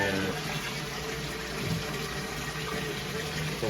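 Water pours steadily into a tank at a newly moved setup, a continuous, even rush and splash that holds at a constant level from start to finish.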